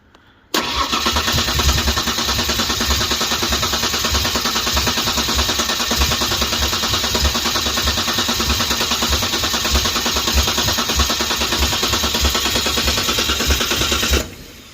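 A 1992 Ford Ranger with a freshly installed 3.0L engine fires up abruptly after a moment of quiet, then runs loud and steady at close range for about fourteen seconds before cutting off.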